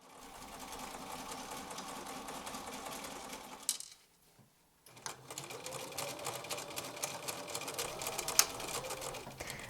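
Sewing machine stitching textile runs in a steady, continuous whir with rapid needle clatter, stopping briefly for about a second near the middle before starting up again at full pace; no voices.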